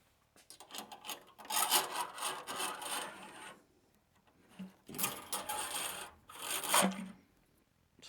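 Fork spacers for a bike suspension cut by hand, with bursts of rough rasping strokes separated by short pauses, close and fairly quiet.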